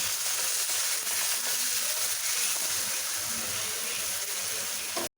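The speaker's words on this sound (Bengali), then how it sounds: "এখন আমি অল্প একটু পানি দিয়ে দিব।" Water is poured into a pan of frying spices in a home kitchen, making a steady, loud rushing splash and hiss that carries on for several seconds and then stops sharply at the end.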